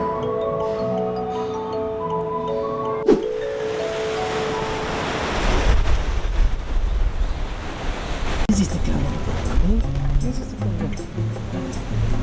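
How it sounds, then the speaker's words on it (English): Pacific Ocean surf at Puerto Vallarta roars in a broad, rushing wash that swells and rumbles continuously, with wind noise buffeting the microphone. "You can hear the roar of the waves here in the background."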